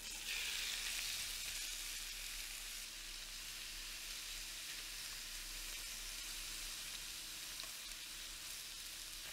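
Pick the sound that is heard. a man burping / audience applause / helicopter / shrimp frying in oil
shrimp frying in oil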